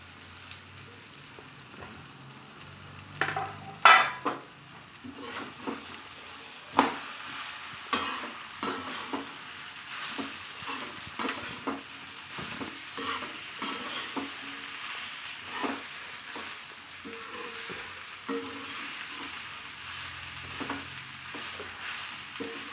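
Sago is stirred and fried in a pan for sabudana khichadi, giving a continuous soft sizzle broken by repeated scraping stirs of a spoon against the pan at a steady, irregular rhythm, close and moderately quiet.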